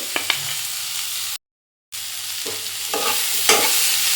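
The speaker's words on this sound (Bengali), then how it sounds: "আমলকিটা ভাজা ভাজা হয়ে এসছে" Amla (Indian gooseberries) frying in a pan for a Bengali pickle, a steady broadband sizzle with a few scraping stirs, cut by a brief silent gap midway before the frying resumes.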